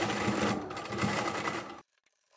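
A sewing machine stitches the corners of a fabric bag with a half-inch seam, running in a loud, close, continuous whir that stops abruptly, leaving near silence.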